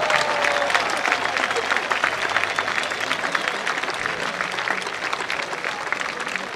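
Loud, sustained applause from a large outdoor crowd at a Slovak folk costume record gathering, dense steady clapping throughout with faint voices mixed in.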